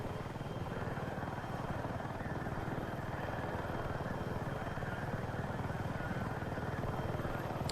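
A Little Bird helicopter in Battlefield 6 flies with a steady, close rotor thrum and engine drone that holds unbroken throughout, with no one talking.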